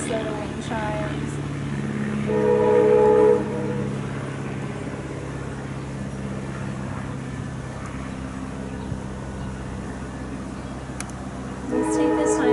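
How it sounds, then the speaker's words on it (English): A train rumbles past steadily with a low, continuous drone, a brief horn-like tone rising midway, and some faint voices in the background. "of the airplane and the train,"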